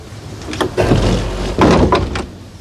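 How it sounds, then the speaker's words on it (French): A heavy monastery door inside an abbey slams twice, each hit a loud thud that rings out through the quiet space. "Attendre une porte du monastère claquer, je trouve que c'est très beau."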